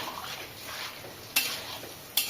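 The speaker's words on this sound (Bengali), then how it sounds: "এটা ভাজা হচ্ছে, একটু ভাজা হোক।" Pumpkin fries in a pan with a soft sizzle, joined by two sharp metallic clinks of a utensil against the pan, fairly close and quiet.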